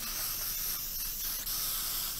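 Art sealant spray hisses from an aerosol can in one steady, soft continuous burst, quiet and close with no talk.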